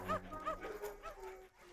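A dog gives a few short, soft barks and yips in quick succession, fairly quiet and indoors, with faint background sound.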